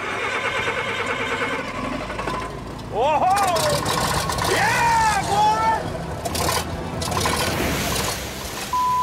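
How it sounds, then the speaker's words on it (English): An old 465-horsepower Caterpillar dozer engine driving a 10-inch water pump at a mining site cranks and fires up into a loud, rough rumble, with an excited shout and talk over it. "I love the sound of those old cats. Powered by a massive 465 horsepower dozer engine."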